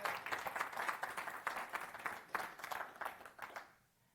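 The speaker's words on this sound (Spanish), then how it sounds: "me le regalan otro aplauso a nuestro hermano" A congregation claps during a church service, a short burst of fairly close, rhythmic applause that fades out after a few seconds.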